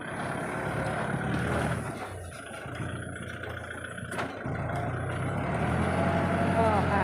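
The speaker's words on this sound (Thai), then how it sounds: "รถจะมาทยอยเทเรื่อยๆนะคะ" A soil truck arrives to dump earth at a site under construction, its engine rumbling steadily with a hiss of air brakes and rising motor noise, while a voice talks over it.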